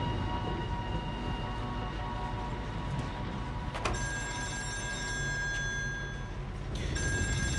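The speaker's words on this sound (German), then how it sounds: "Oder so Telefon gleich bimmelt's." Telephone ringing in the video game Still Wakes the Deep, set on an oil rig: bright electronic ring tones start partway through and repeat over a steady low industrial hum, moderately loud.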